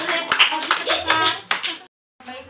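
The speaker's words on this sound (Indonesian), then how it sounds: "Aplaus." Students clapping in a classroom, a short burst of applause from a small group that cuts off briefly before resuming, with some voices mixed in.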